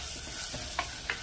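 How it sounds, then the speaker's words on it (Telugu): Onions frying in a pan for a Telugu taro-root curry, a steady soft sizzle with a few brief stirring clinks, close and alone with no voices. "ఉల్లిపాయలు కొంచెం ఎర్రగా వచ్చేంత వరకు వేపండి."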